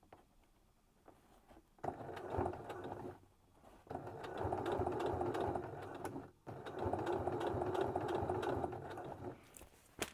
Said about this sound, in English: And I'm just going to carry on stitching till I get to the other side.